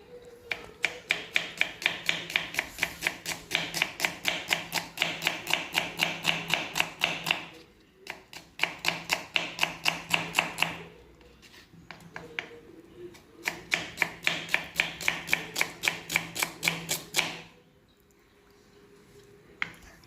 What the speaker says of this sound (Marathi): आता कांदे कापून घेते।